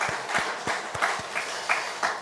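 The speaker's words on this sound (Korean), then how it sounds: "우리 박수로 한번 환영하겠습니다" A congregation at a Sunday morning church service claps together in a steady rhythm, with evenly spaced sharp claps landing about three times per second throughout.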